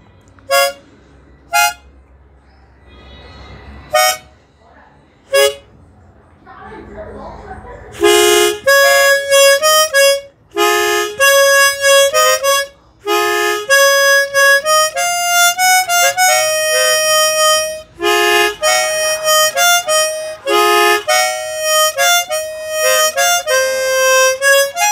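A complete harmonica, or mouth organ, plays. A few short isolated notes and breaths come first, then loud sustained chords and melodic phrases follow close up, separated by brief pauses, with no speech over them.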